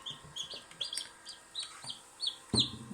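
Newly hatched chicks peep in high, thin bursts, several overlapping in quick succession, close by, with a sharper louder cheep near the end.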